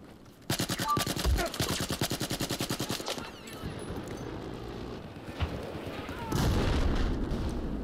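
Rapid automatic gunfire in Battlefield rattles off in a fast burst, then trails into scattered shots, clatter and a later heavy blast; a voice talks over parts of it.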